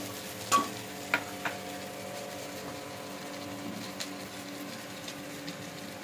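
Prawns sizzle quietly in a pan while a utensil gives a few sharp scrapes and taps, the frying steady and low throughout with no voices.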